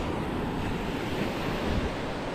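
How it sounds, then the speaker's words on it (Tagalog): Steady wash of small sea waves rolling in, a constant broad rush with light wind noise and no voices. "Kaya maliliit na po yung alon."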